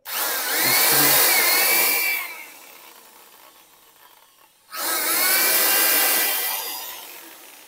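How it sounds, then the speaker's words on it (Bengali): Power drill with a 1/8 bit boring a pilot hole while fitting a stainless steel kitchen basket, two loud close bursts of whirring with a quieter pause between, no talking. "তাই আমরা এখানে প্রথমে 1/8-এর বিট দিয়ে হোল করে নিলাম।"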